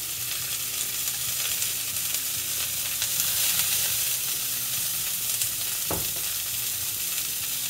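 Olive oil sizzling in a hot pan while cheese ravioli cooks: a steady, loud frying hiss close up, with one brief clatter near the end and no talk.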